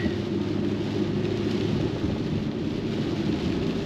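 Steady, dense rain in Kosovo hisses and patters with a low rumbling undertone, continuous and fairly loud with no voices.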